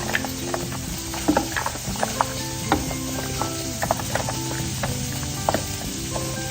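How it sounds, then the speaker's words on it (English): Radishes tossed in oil in an air fryer pan give a soft sizzle under repeated knocking and scraping of a utensil stirring them, a busy irregular rhythm close to the listener. "Put the radishes in here. Give them a good mix."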